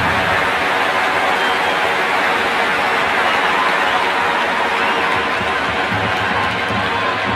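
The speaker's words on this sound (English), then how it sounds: "Listen to the crowd. It's electric in this ground." Dense, roaring crowd noise fills a cricket stadium during a tense IPL match between MI and CSK, a steady wall of cheering and shouting with no letup throughout.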